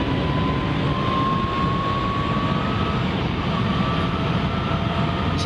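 A Renault Twizy 80 electric car accelerates with a steady whirring drone and a faint rising electric-motor whine over constant road and wind noise.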